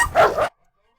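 Rottweiler dogs let out a single loud, close bark or yelp lasting half a second, then silence.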